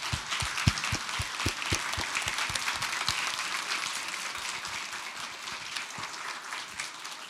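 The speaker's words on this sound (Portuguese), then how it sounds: "concluir essa apresentação com as palmas de vocês" At the close of a corporate presentation, the audience breaks into applause: several heavy, distinct claps near the microphone land early over a broader crowd clapping that continues steadily and slightly fades.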